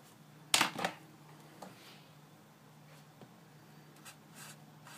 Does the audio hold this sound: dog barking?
no